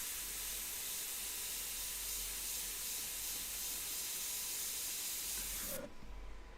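An airbrush hisses paint in a continuous, even spray while working on a winter-scene portrait of a woman, then cuts off abruptly near the end.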